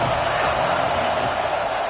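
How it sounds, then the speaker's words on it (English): A college football stadium crowd roars behind the defense on third down, a dense sustained wall of cheering and yelling at loud level. "Decibels rising as the crowd gets behind this defense on 3rd down."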